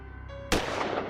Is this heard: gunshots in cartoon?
yes